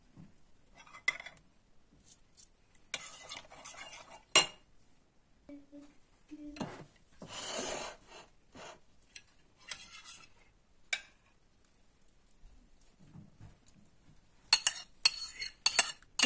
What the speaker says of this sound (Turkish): bir kase yoğurt ve birkaç diş sarımsağımızı ezip karıştırıyoruz